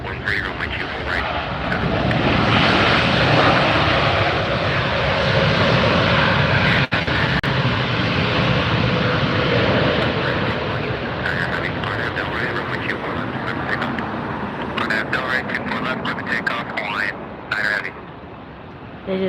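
A Hawaiian airliner takes off at Los Angeles Airport, its engines a loud, broad, sustained roar close by, with voices talking over it.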